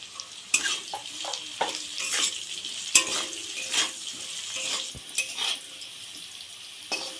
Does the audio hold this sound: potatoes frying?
yes